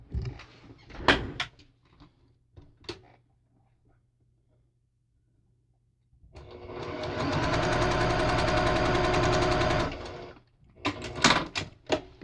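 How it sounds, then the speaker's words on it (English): A home sewing machine used for quilting runs a short burst of stitches, a steady rapid mechanical hum for about four seconds framed by clicks and handling noises before and after. "So let's sew. Let's take a couple of stitches."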